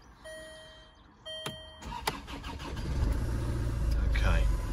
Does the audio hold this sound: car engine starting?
yes